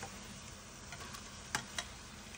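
Marinated shrimp, seasoned with turmeric and salt, hitting a pan and sautéing, giving a faint steady sizzle with a couple of sharp stirring clicks near the end.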